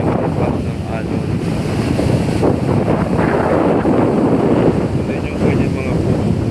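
Waves crash and wash against the seashore by a damaged beachside farm, a continuous loud surge heavily buffeted by wind noise on the microphone, with a person talking over it.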